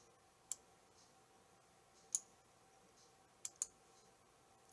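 Four distinct computer mouse clicks, spaced irregularly and crisp, close against a faint quiet background with no speech.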